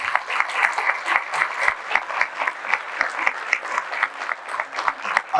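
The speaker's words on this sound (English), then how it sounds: "ask for a round of applause for today's premier event sponsor, Port Madison Enterprises" An audience at an economic forecast event applauds, with dense, even clapping from a sizable crowd sustained throughout, fairly close and steady in level.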